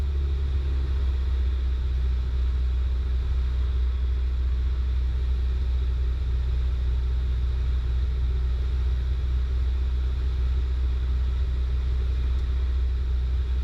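Light aircraft engine with carb heat on and power reduced on an instrument approach, a steady low droning rumble heard from inside the cockpit, continuous and even throughout.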